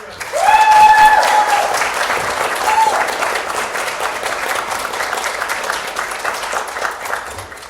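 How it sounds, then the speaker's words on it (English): Applause breaks out from the audience at a university debating tournament's open semi-final, a dense, sustained wash of clapping from a crowd that swells quickly and then holds steady. "I'd like to ask you again for one more round of applause for the debate."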